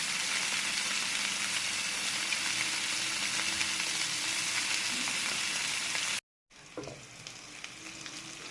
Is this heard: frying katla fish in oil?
yes